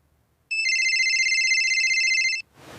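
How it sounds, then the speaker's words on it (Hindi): A mobile phone rings at night with a bright electronic ringtone, a steady trilling tone lasting about two seconds, loud and close, then cutting off abruptly. "एक दिन रात में श्रुति का फोन बजा"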